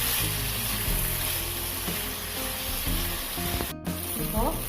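Brinjal pieces sauté with salt in a hot pan, giving a continuous sizzle and frying hiss with a low hum beneath and a brief sharp scrape of stirring near the end.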